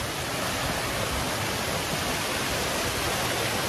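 Lumsdale Falls waterfall in Derbyshire, a dense, constant rushing roar of falling water, close and loud, steady throughout with no voices.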